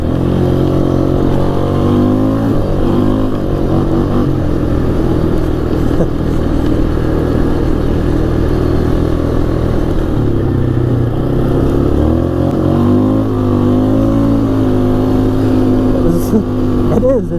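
A 2004 Polaris Scrambler 500 4x4 ATV engine runs on a test drive up a road, a loud, continuous drone whose pitch rises and falls with the throttle throughout.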